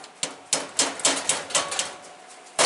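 A hammer taps sheet steel several times at a steady, uneven rhythm while fabricating a quarter-scale chassis, each strike sharp and close, with no voices.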